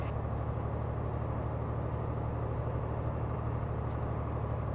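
Trucks rumble along in a multiplayer convoy in Euro Truck Simulator 2, a steady droning engine and road hum holding at an even level throughout, with no talking.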